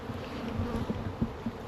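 Bumblebees and honeybees buzz close by on flowering bramble in short, uneven droning bursts, several insects hovering and passing over a quiet outdoor background.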